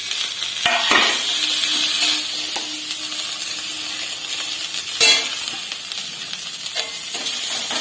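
Peanuts, spring onion greens and coriander leaves fry in hot oil for a Mughlai paratha, giving a steady close sizzle and hiss with a few brief stirring scrapes and no talking.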